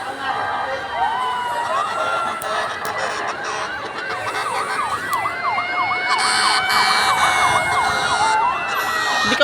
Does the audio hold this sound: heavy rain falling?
no